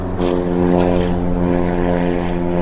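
Loud droning propeller engine of a small seaplane on Lake Union, Seattle, close by and steady, with a strong even hum throughout.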